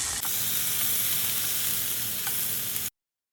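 Tomatoes with Cajun seasoning sizzle in a hot pan, a loud, even hiss that holds steady for about three seconds and then cuts off abruptly.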